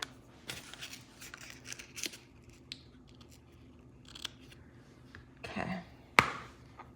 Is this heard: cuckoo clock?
no